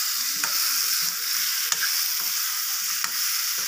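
Chicken and radish frying in a pan, stirred with a spoon: a steady loud sizzle with a few sharp scrapes and taps of the spoon against the pan, no talking.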